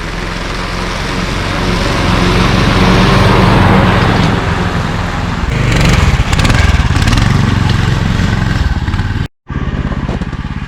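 A Rybak snowmobile engine runs loudly and continuously up close, a rough steady drone with a brief drop-out near the end.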